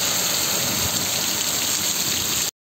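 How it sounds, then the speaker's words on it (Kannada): Heavy rain pours down in a thunderstorm as a loud, continuous rushing wash of drops striking surfaces close by, then cuts off abruptly. "ಫುಲ್ಲು ಭಾರಿ ಮಳೆ, ಫುಲ್ಲು ಜೋರು ಮಳೆ ನೋಡ್ರಿ ಹೆಂಗೆ ಹೊಡಿತೈತೆ ಮಳೆ"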